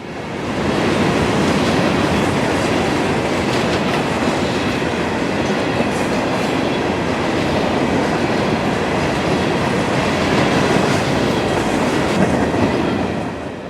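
FEC freight train 335 rolls steadily past close by in Florida, a loud sustained rumble of wheels and cars with rhythmic clacking over the rails and no pause throughout.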